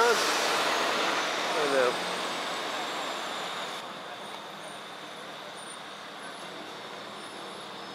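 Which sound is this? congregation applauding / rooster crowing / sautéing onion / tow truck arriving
tow truck arriving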